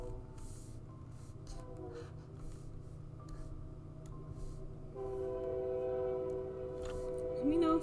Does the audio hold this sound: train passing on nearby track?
yes